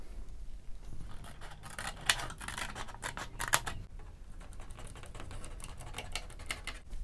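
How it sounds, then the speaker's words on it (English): Repeated snips of round scissors cutting through a thin plastic RC car body shell, a steady crisp clicking with a couple of louder cuts, close up and without speech. "this I will do with the round scissors"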